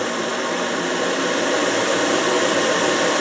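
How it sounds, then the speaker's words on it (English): A cheap camping burner stove in a bug-out-bag cook set roars like a jet engine. Its flame gives a loud, constant, wide hissing rush that holds steady throughout without any voice. "these things are called jet bowls or rocket bowls or whatever, and you can tell why. It sounds like a jet engine. Very loud."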